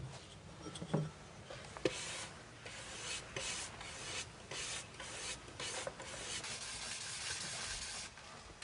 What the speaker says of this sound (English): Through repeated polishing, the surface begins to take on a profound luster.